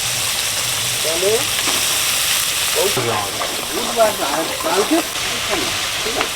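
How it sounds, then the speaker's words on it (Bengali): Onion paste, then ginger-garlic paste, hitting hot oil left from frying mud eel, giving a steady close hiss and sizzle with stirring scrapes and some clatter while a voice speaks over the cooking. "কুচে মাছ ভাজার তেলে পেঁয়াজ বাটা দিয়ে দিচ্ছি আদা রসুন বাটা এবার দিয়ে দিচ্ছি"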